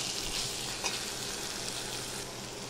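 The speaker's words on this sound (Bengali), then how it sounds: "দেখো আলুগুলো আমি দিয়ে দিয়েছি, দিয়ে এবার একটু নাড়বো।" Fried potatoes stirred in a sizzling pan with spices, a close, continuous frying hiss with a few soft scraping knocks of the spoon, no talking.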